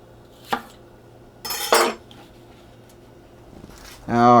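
A knife cuts vegetables into large chunks on a cutting board, making a few scattered sharp clacks and scrapes between stretches of quiet, with someone talking in between.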